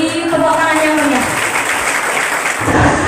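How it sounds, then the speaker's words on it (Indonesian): A campus audience at a Mother's Day talk show claps enthusiastically for a speaker, a dense, steady wash of applause with a voice trailing off at the start. "Beri tepuk tangan yang meriah."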